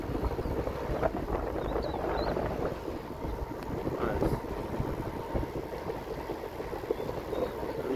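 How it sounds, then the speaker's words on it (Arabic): Strong wind buffets the microphone during a bicycle ride on a rural back road toward the Sidi Chahed dam, a continuous loud rushing roar with gusty swells throughout. "الرياح الان كونترنا"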